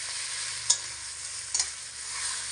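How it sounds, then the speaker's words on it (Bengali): Cauliflower mash being stirred and fried in a pan, a continuous close sizzle with a couple of brief scraping knocks of the spoon, no voices. "তো এরকম একটু হালকা পাতিয়ে দিয়ে দিয়ে কষিয়ে নেব।"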